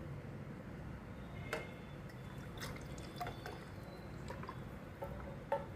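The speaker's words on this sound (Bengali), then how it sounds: "এই দেখো ঘিটা ঢেলে নেব শিশিতে।" Homemade ghee poured from a pot into a glass bottle, a soft steady liquid trickle with a few faint drips and clinks over low room hum.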